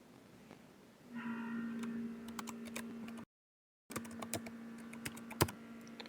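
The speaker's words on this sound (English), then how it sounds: "from the down I will press the down key and I will put the password" Key clicks from a computer keyboard entering a password at an ESXi server login, a short irregular run of close, crisp taps with a steady tone humming underneath and a brief gap of silence midway.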